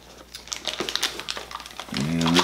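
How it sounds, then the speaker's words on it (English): Clear plastic bag packaging of a Pegasus Astro Pocket Power Box crinkles and rustles close up in short, uneven bursts, ending with a louder crackle. "Package is in a clear plastic bag."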